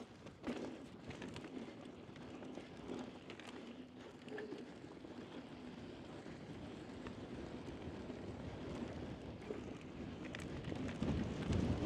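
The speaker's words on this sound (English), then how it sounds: "Oh, wind again." Gusting wind buffets the microphone of a mountain biker on a dusty downhill flow trail in Flagstaff, Arizona, a rough low rumble that swells and fades for about twelve seconds and grows stronger toward the end.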